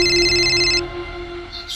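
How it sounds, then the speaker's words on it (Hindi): A mobile phone rings with an incoming call, a bright electronic ringtone that sounds loudly for under a second, then cuts off, followed by a brief faint chirp. "सॉरी सर, भैया का फोन है, उठाना पड़ेगा।"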